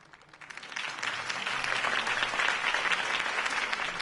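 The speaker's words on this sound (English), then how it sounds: "If only Mr. Wayne, my campaign's largest backer, could have heard that applause" Crowd applause at a political campaign speech for Harvey Dent, building quickly from a few claps into sustained, dense clapping that holds steady at moderate distance.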